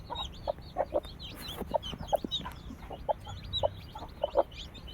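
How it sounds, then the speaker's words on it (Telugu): Newly hatched chicks, one of them black, peep in short, bright, repeated chirps at close range, scattered irregularly over a faint background with no talking. "నల్ల కోడి పిల్ల చూడడానికి చాలా క్యూట్గా అయితే ఉంది"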